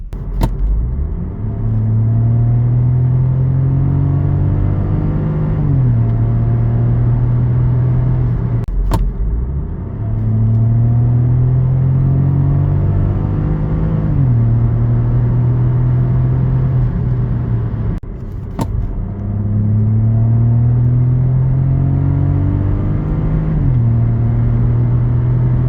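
A Ford Puma ST 1.0 accelerates hard, its engine note climbing steadily through each gear before dropping sharply at the shift. The pattern repeats three times as a loud, close, continuous drone with heavy road rumble underneath.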